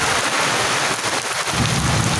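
Torrential rain pours steadily onto a village veranda, its dense hiss continuous, while heavy thunder rolls low underneath in a deep rumble near the end.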